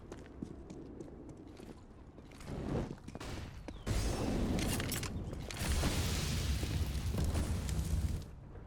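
Gunfire in Counter-Strike on the Cobblestone map during a competitive match, a burst of loud booming shots over busy game noise, with a few sharp cracks and footsteps earlier on.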